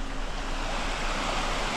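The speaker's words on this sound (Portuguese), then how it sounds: "o olho d'água aqui, ó. Aqui nasce um rio. Tá bem cheio hoje" Water rushing steadily from a spring where a river begins, running full after rain, a dense close wash of flowing water without a break.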